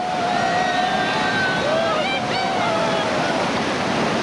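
Whitewater rapids on the Lower New River in West Virginia, a steady, loud, broadband rush of churning water with high whistling tones over it and no clear talk.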